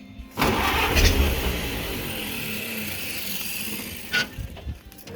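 A Model A rat rod engine cranks briefly, then catches and settles into a rough, loud idle, with a couple of short revs near the end.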